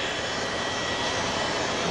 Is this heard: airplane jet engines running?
yes